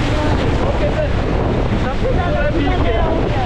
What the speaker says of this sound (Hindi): भाई लहरें क्या आ रही है